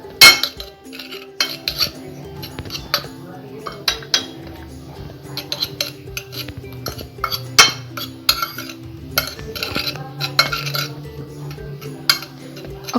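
A metal utensil mixes sugar and cinnamon in a bowl, with close, repeated clinks and scrapes against the dish in an uneven rhythm.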